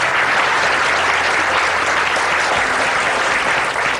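An audience applauds, with loud, sustained clapping from many hands filling the whole stretch at an even intensity.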